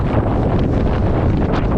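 Strong wind roars across the summit of Pico Viejo, a 3,135-metre volcano on Tenerife, buffeting the microphone with a loud, continuous, rumbling gust that has no breaks and no talking.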